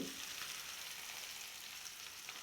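Oil sizzles and crackles steadily in a hot pan as mustard seeds and onion are tempered, a soft continuous frying hiss with faint popping throughout.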